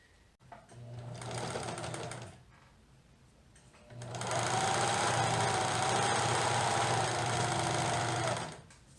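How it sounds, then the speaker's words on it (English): A sewing machine stitches knit fabric for baby leggings in two steady motorized runs, a shorter burst followed by a longer, louder stretch, with a brief pause between them. "I'm going to pin both and sew both at the same time"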